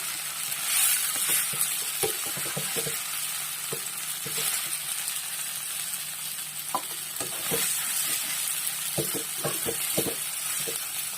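Prawns (kolambi) sizzle loudly in hot oil on a full flame as they are tossed, a steady close crackling hiss punctuated by scattered scrapes and taps of the stirring spoon.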